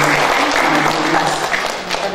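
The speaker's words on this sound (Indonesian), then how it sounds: "Tepuk tangan juga buat Ibu Kabid." Steady, loud audience applause fills the room at an installation ceremony for a regional early-childhood teachers' association, a continuous wash of many hands with no pauses.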